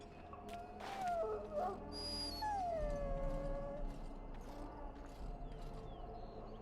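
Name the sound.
dog whining in Dragon Age Origins video game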